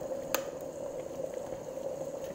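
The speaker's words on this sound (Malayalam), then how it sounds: "നമ്മുടെ വെള്ളം നന്നായിട്ട് വെട്ടിത്തിളക്കുന്നുണ്ട്. ഞാനിത് കെറ്റിലാണ് വെച്ചേക്കുന്നത്" Water boils in a kettle for tulsi tea, a soft, continuous bubbling and hiss heard faintly and close, with one brief sharp tap early on.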